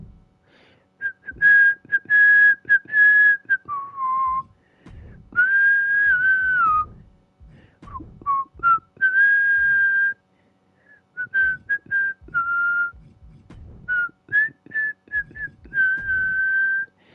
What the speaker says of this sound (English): I'm whistling because I hear music